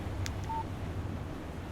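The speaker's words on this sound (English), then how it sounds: "Text message from Barry." A text message alert sounds from a phone in the horror video game Alan Wake, a short electronic chime under steady low background hum with no talking.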